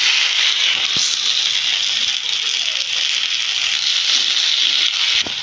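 Vegetables and beans frying in white oil for Bengali fried rice: a steady, close sizzle with a few scattered pops and stirring clinks throughout.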